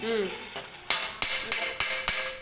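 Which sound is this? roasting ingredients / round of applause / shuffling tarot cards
roasting ingredients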